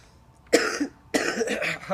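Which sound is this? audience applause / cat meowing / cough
cough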